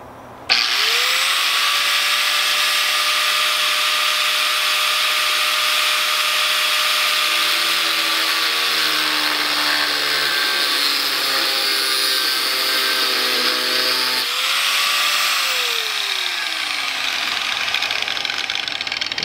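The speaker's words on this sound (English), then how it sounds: "this is actually a metal cutting disc versus the grinder I always use" An angle grinder fitted with a metal cutting disc cuts through a car shifter: a loud, close, continuous high whine that sags and grinds deeper in pitch as the disc bites into the metal, then spins back up.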